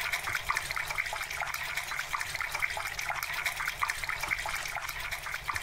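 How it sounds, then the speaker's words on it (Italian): Swimming pool water in the video game Together BNB, a steady rushing, splashing wash of water with constant trickling texture, fairly faint and uninterrupted, no talking. "che brutto il suono dell'acqua!"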